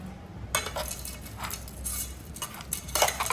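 A spoon stirs puffed rice masala mixed with a store-bought fried mixture snack, producing a few bursts of dry rustling and light scraping against a bowl with brief pauses between strokes.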